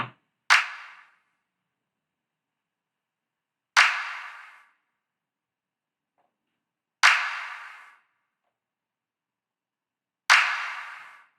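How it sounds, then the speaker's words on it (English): A layered clap-and-snap sample from a beat instrumental strikes four times alone, evenly spaced about three seconds apart, each hit a sharp, crisp transient with a short decaying tail and silence between. "the type of clap I have here, it's a clap and it's a snap"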